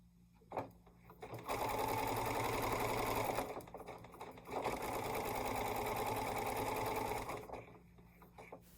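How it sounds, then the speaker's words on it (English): An electric sewing machine stitches fabric scraps in two sustained runs of rapid, buzzing needle strokes, with a brief pause between them and a short click beforehand. "Real-time sewing isn't very exciting to watch"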